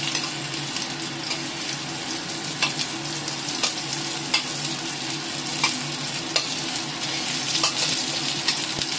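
Onion sautés in a pan for chicken red curry, making a steady, close sizzle with scattered sharp crackles and occasional stirring clicks throughout.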